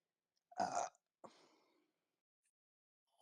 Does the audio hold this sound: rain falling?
no